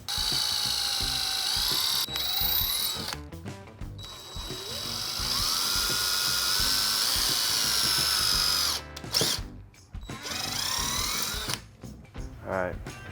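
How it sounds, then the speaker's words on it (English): A power drill boring holes into an old shed deer antler, whining in steady high-pitched bursts with brief pauses between holes, close and fairly loud. "now I'm ready to drill these holes"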